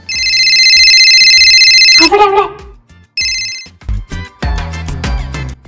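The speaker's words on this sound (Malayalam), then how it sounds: "നിക്ക്, ഫോൺ റിങ് ചെയ്യുന്നു." A mobile phone ringtone plays loud and close for about two seconds, pauses briefly, then sounds again before people start talking nearby.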